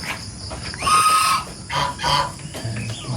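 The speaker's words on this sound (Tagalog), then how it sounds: "Yan yung mga pabo na nagalimlim." Brooding turkeys on a small farm cluck and call close by in short bursts, with one brief higher squawk among the low fowl chatter.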